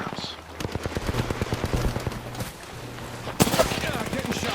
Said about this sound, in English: Yeah, getting shot at. They're shooting at me.